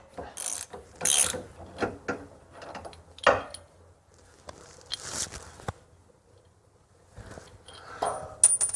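A hand ratchet with a 13mm socket loosens a drop link on a Porsche 986, giving short close bursts of rapid clicking separated by quiet pauses and small handling knocks.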